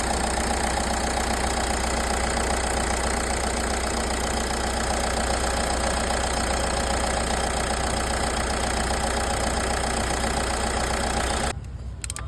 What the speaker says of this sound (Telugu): ఇప్పుడైతే చూడొచ్చు ఇంజన్ నాయిస్ ఆయిల్ చేంజ్ అయ్యే ముందుకు.